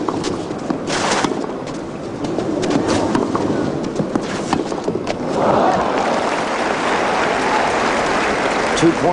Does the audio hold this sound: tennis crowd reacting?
yes